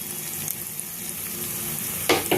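Fried potatoes with ginger and ground spices sizzling quietly in a pan, a soft continuous crackle with a couple of sharper scraping stirs near the end.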